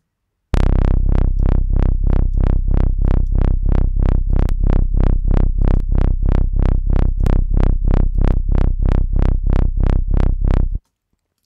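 An LFO synth bass run through a saturation plugin pulses in a steady run of about twenty-five even notes, thick and loud, then stops abruptly.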